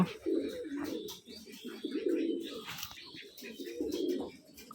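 Rajshahi Giribaz pigeons give repeated low, throaty coos in three rolling phrases, close and fairly soft, with faint background chirps and a little distant talk.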